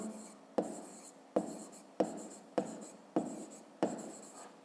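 A pen writing an answer on paper for a fifth-grade maths exercise, close and quiet, with a regular series of about seven short scratching strokes, each starting sharply and fading, and no talking.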